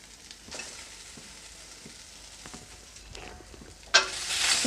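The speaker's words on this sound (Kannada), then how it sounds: "ಗ್ಯಾಸನ್ನು ಮೀಡಿಯಂ ಫ್ಲೇಮಲ್ಲಿ ಇಟ್ಬಿಟ್ಟು ಶೇಂಗಾ ಬೀಜನ ಹುರ್ಕೋಬೇಕು" Peanuts roast in a hot pan over a medium gas flame with soaked fenugreek seeds and spices, faint scraping and light sizzling stirs, then a sudden louder sizzle near the end.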